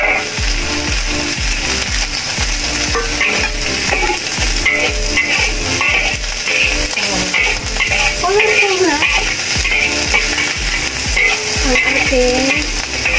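Rice and vegetables stir-fried in a pan for a simple lunch, with a steady close sizzle and repeated scraping and clacking strokes from stirring that run the whole time without talk.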